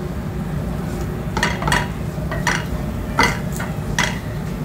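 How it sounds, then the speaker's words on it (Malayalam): Kerala-style beef with spices being stirred in a pot, with a series of close scraping and clinking strokes of a utensil against the metal over a low background hum. "നന്നായിട്ടൊന്ന് നമുക്ക് ഇളക്കി കൊടുക്കാം."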